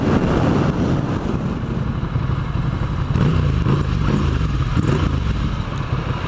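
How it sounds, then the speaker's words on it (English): Ducati Scrambler with an L-twin engine breathing through Termignoni exhaust pipes, a steady, loud, thumpy rumble close by throughout, with some clatter and wind buffeting on top. "The big old thumpy L-twin sounds marvellous through the Termi pipes"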